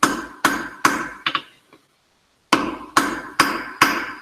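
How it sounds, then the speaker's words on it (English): Metal struck at an angle with a hammer for diamond point work, two bursts of four sharp ringing blows at a steady rhythm, separated by about a second of silence. "hammer on an angle"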